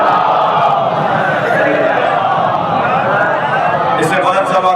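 A large congregation recites salawat in unison at a religious gathering, producing a loud, dense, continuous wall of chanting voices that holds steady throughout and is heard close.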